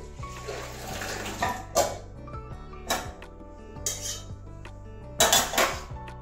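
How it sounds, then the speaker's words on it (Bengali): A wok is washed under running water at a kitchen sink, with repeated clanks and scrapes of metal against metal, then set back down with a few sharp knocks. "কড়াই ধুয়ে আবার বসিয়ে দিয়েছি।"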